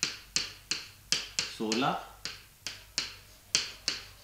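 Sharp, evenly spaced hand claps and taps keep a steady rhythmic cycle of about a dozen strikes for the tali beats of teen taal, with a voice briefly counting over them partway through.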